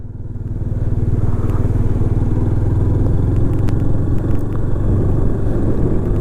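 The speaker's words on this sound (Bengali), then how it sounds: "সমুদ্রে পাড় দিয়ে বাইক চালাচ্ছি" A motorbike rides along a sea beach, its engine rumbling loud and close with a steady throbbing drone that builds briefly at the start and holds for the whole stretch, with light clatter and wind on top.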